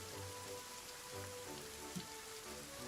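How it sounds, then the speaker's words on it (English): Steady rain falls in the anime-style farming sim Starsand Island, a soft continuous patter of drops on surfaces, faint and even throughout with no voices. "Rain is a relaxing form of white noise."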